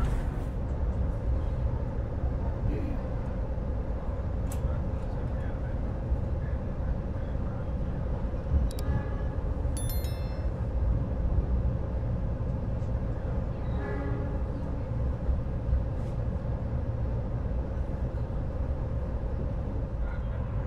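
The Pangandaran tourist train pulls into Banjar station with a steady, low rolling rumble, while faint metallic squeals and clanks come through now and then over about twenty seconds.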